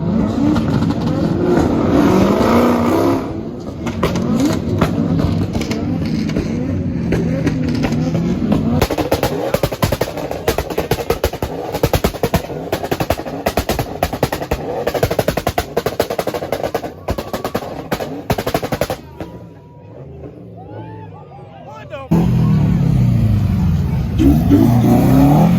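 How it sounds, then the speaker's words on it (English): A Corvette engine revs at a street gathering of muscle cars, loud surging bursts and rough rumble close by among other engines, with people talking over it. "Somebody revving that vet"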